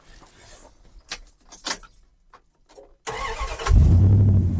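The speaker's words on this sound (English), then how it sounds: "So let's start up the old Dodge here." Keys jingle and clatter, then an old Dodge van engine cranks and catches, settling into a loud, rough idle that rumbles on.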